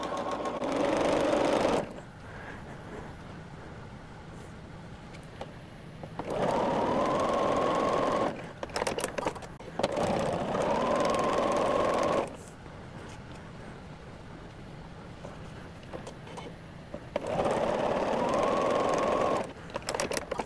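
Sewing machine stitching quilt squares together, running in three steady whirring bursts of several seconds each with quieter pauses between them.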